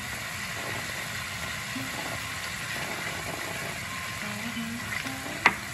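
Chopped pumpkin leaves with shrimp and turmeric fry in a pan with a soft, continuous sizzle and light stirring, ending in a single sharp clink.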